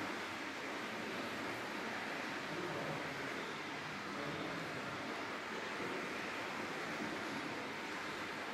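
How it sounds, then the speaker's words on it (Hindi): Boiling water at the Tatta Pani hot spring near Kala Kote in Rajouri gives a steady, dense hiss and bubbling roar that continues unchanged throughout, heard close up with no talking. "ये देखो उबलता पानी है।"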